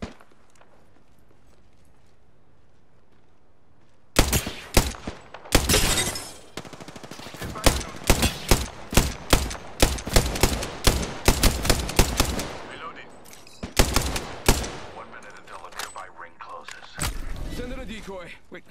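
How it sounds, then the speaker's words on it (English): Rapid bursts of video game gunfire erupt after about four seconds of near silence, loud, dense and repeated, with the firing continuing in clusters through the rest of the passage. "Opening fire."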